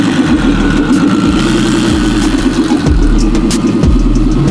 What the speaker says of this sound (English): Those turbos spinning and spooling sound so crazy.